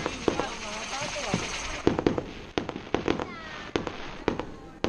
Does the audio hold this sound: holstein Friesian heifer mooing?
no